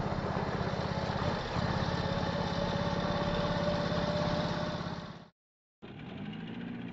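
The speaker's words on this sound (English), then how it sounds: "Here's the real John Deere Gator." A John Deere Gator utility vehicle engine runs nearby with a steady, buzzing small-engine drone, cutting out briefly before resuming at the same even idle.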